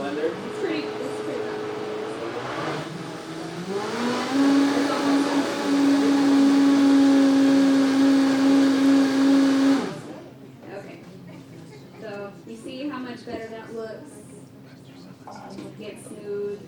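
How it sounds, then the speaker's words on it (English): A loud kitchen blender whirs through cranberries for several seconds, its steady motor whine dominating, then stops abruptly; people talk before and after the blending. "Can you hear me okay? Over the blender? It's pretty loud."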